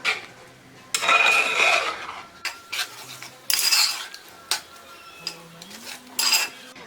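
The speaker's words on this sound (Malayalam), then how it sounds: "ഇതുപോലെ ഒരു ചട്ടകം കൊണ്ട് ഇത് ഇളക്കിക്കൊണ്ട് തന്നെ ഇരിക്കണം" A spatula scrapes and clinks against a pan while pineapple pachadi is stirred, in irregular bursts of scraping with short clanks between quieter pauses, close and without talk.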